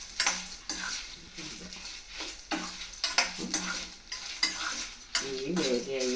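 Ingredients for mango karampodi fry in a little oil while a utensil stirs and scrapes the pan in steady, uneven strokes, with continuous close sizzling and a faint voice near the end.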